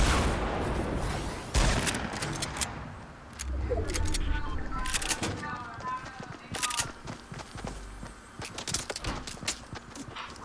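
Scattered gunfire in Fortnite Battle Royale cracks out as sharp, irregular shots, some in quick clusters and others isolated, moderately loud over background game noise while someone talks.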